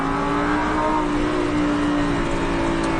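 A Lamborghini Huracan accelerates on a race circuit, its engine holding a steady, loud, droning roar with a rising tone heard from close by throughout.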